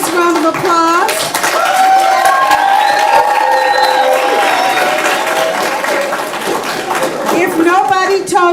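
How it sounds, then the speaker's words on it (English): A school audience at a middle school holiday performance bursts into loud, sustained applause with cheering and children's voices mixed in, filling the space without pause. "Let's give all of our students a nice round of applause."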